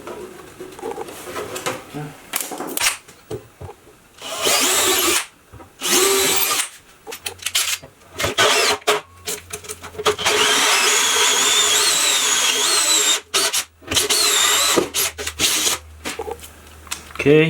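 A power drill boring three holes in parts for a homemade model-painting spray booth extractor, working in short loud bursts separated by pauses, with speech between the bursts.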